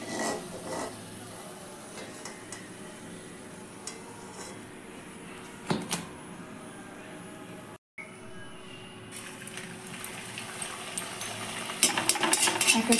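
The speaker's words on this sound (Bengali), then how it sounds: "এক এক করে কচুরিগুলো আমি ভেজে নিচ্ছি।" Kachori pastries fry in hot oil with a steady moderate sizzle, occasional utensil knocks against the pan, a brief silent gap, then livelier crackling and clatter toward the end; no speech.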